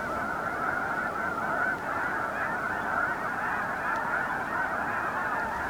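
A dense flock of geese honks continuously at Beaverhill Lake in spring, a steady mass of overlapping calls at moderate distance with no voices.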